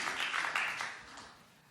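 A church congregation applauds in a soft, brief burst of clapping that fades out over under two seconds, heard at a moderate distance.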